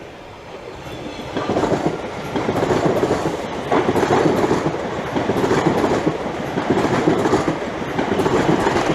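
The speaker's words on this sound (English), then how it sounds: "the 1105 TfL Rail service from London Liverpool Street to Chadwell Heath. This is formed of yet another Aventra." An Aventra electric train on TfL Rail passes through a station in London: a loud, close, continuous rumble with rhythmic clickety-clack of wheels over rail joints.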